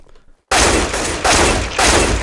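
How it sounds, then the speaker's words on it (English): Loud, close AK-47 hipfire from Counter-Strike: Global Offensive, sustained automatic bursts that start abruptly after a brief quiet lead-in and continue densely with slight pauses between strings of shots. "I'm going to start by showing you the AK hipfiring"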